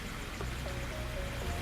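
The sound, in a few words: thin streams of water trickling down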